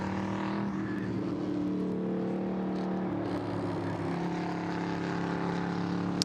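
A Chevrolet Corvette race car engine with an unusual exhaust setup drones smoothly and steadily at a track, a sustained high-revving hum heard from a distance without any break.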